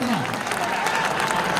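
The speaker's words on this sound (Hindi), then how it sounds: "जोरदार तालियां बजनी चाहिए अपने फ्यूचर के लिए।" Audience applause at a network marketing seminar, a dense wash of clapping from a crowd filling the room, steady and moderately loud with a voice audible over it.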